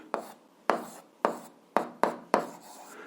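Chalk or marker writes an algebra expression on a board in six distinct scratchy strokes at a steady pace, each a short sharp tap trailing off into a faint scrape, close and clear without talk.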